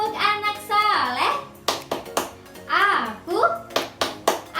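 Children chant the tepuk anak soleh clap rhyme together, their sung voices broken by bursts of sharp, rhythmic group hand claps that land in a steady pattern, close and fairly loud.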